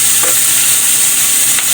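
Onion and green chili sizzling loudly in a pan, a dense, continuous close-up hiss with faint stirring, no talking.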